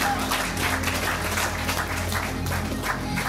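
Audience applause at the Miss and Mister Ogre 2015 pageant, a steady wash of clapping from a crowd that holds evenly for a few seconds with no voices on top.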